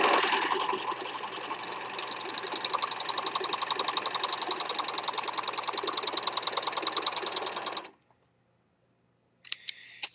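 A serger overlock machine runs steadily, sewing a narrow seam on a single layer of knit fabric with a fast, even mechanical whir that stops abruptly near the end, followed by a brief restart.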